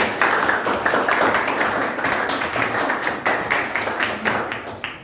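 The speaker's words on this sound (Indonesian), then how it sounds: "Bapak beri tepuk tangan untuk Ina." Classmates clap for a student in a school setting, a brisk burst of close, fairly loud hand claps from a small group, pulsing unevenly and tapering near the end.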